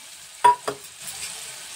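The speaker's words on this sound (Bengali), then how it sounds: "মশলাটা ভালো করে পেঁয়াজ রসুনটা কষে নেব ভালো করে।" Spice paste of tomato, garlic and ginger with bay leaf, cardamom and whole cumin frying in a pan for duck egg kalia; two quick stirring scrapes over a soft, steady sizzle.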